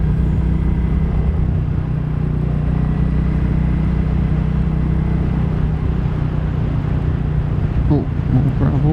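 A 2022 Royal Enfield Classic 350 rumbles along a gravel road in the Spanish countryside, a loud continuous low engine drone with wind buffeting, while a rider talks briefly near the end.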